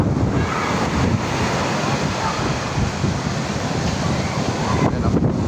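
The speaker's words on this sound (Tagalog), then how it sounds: "Ayan o, lalakas ng alon." Strong sea waves rolling onto the shore at a beach resort in Lemery, Batangas during monsoon weather near high tide, a loud continuous roaring surf mixed with wind buffeting the microphone.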